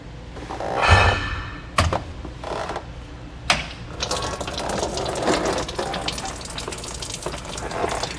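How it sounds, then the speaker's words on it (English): Diesel fuel drains from the fuel filter housing of a 2017 Ford F-250 Super Duty, a steady trickling splash of liquid with a few sharp mechanical clicks and knocks from the housing, close and moderately loud. "to drain the fuel"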